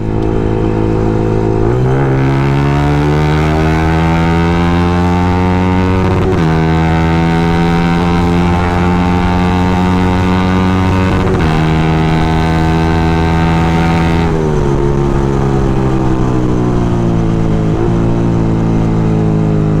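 A motorcycle engine under way at night, its droning note climbing steadily through each gear, dropping with every shift and climbing again, loud and close with no talk.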